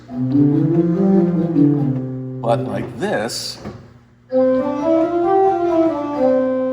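Organ tones sound, then a person speaks briefly. After that a higher, brighter organ chord sustains with a reedy, layered timbre.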